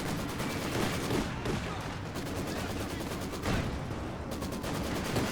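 Tank battle gunfire in Company of Heroes between a Panzer II and a T-70 light tank, dense continuous bursts of shots and impacts that stay loud throughout, with a slightly stronger crack near the middle.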